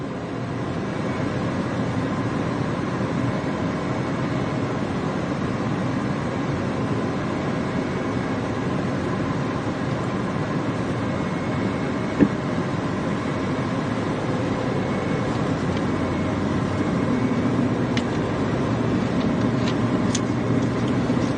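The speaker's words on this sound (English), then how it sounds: "Traffic is actually pretty busy, but that's good." Busy road traffic passing by during preparations for Hurricane Milton, a steady low rumble of vehicles that holds for the whole stretch, with a faint click partway through.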